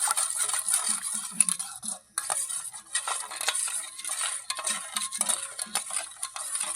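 Flour being mixed by hand with salt and two spoons of yeast for a stovetop eggless bread, giving a steady close scraping and stirring with light clinks of a spoon against a bowl, and no talking.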